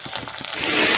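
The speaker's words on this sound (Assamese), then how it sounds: "এতিয়া মই ইয়াত পিঁয়াজ দি দিম। পিঁয়াজখিনি ৰঙচুৱা হোৱালৈকে ভাজি থাকিব এনেদৰে।" Onions dropped into hot oil begin to sizzle in a pan, a few soft clatters giving way to a rising, steady frying hiss over about a second.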